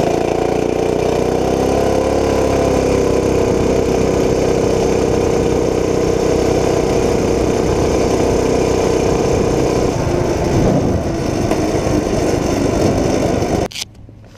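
A Tillotson 212 go-kart engine with the governor deleted and a billet rod and flywheel runs loud and steady close up, pitch rising then holding at high revs before cutting off abruptly at the end.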